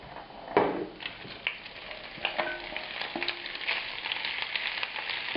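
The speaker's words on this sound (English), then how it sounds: "the shrimp shells and tails, and start sauteing them" Shrimp shells and tails sauteing in hot olive oil in a pan over fairly high heat, giving a steady, close sizzle and crackle with scattered pops and a few light stirring clicks throughout.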